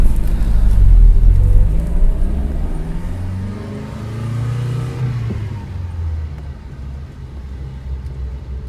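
A Lancia Fulvia 2C Berlina classic car pulls away with a loud close engine rumble that rises and falls through the gears, then settles into a steadier drone.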